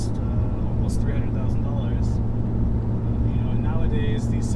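Ferrari 612 Scaglietti cruising in sixth gear at about 50 mph, giving a steady low engine drone and road hum throughout, with people talking over it inside the cabin.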